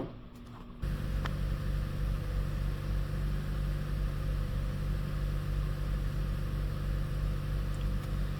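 A Chevy Cruze engine idles steadily and close by with a constant low hum, starting up after a brief quiet moment and holding an even drone throughout.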